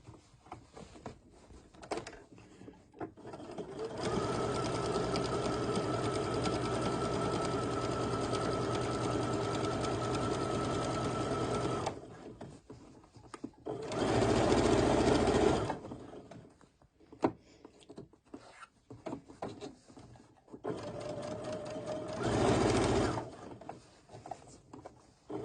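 Sewing machine stitching a scrub cap, running in a long steady burst of rapid stitching, then two shorter bursts with quiet handling and fabric rustle between them, close and fairly loud.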